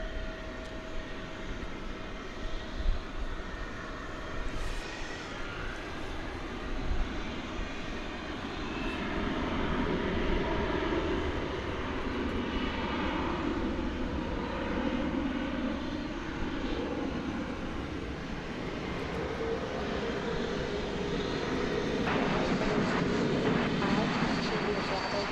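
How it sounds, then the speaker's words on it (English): An American airliner from Las Vegas on the glide path into DFW Airport at night makes a distant jet roar that swells gradually and stays broad and rumbling, with faint talk behind it. "There's 2 planes on the glide path ahead of the 747."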